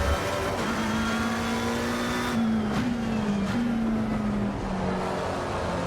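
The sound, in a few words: race car engine driven in Assetto Corsa Competizione video game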